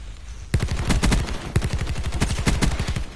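Rapid automatic fire from the Peacekeeper gun in Black Ops 4, a loud, fast stream of close shots that begins abruptly and continues without pause, slightly uneven in rhythm.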